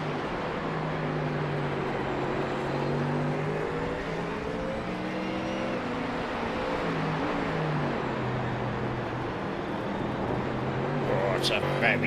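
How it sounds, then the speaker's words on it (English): Ford Mustang race car engine in an iRacing endurance event at Fuji, a steady droning roar with gear shifts and rising, falling pitch, under continuous commentary. "It's a very noisy Mustang"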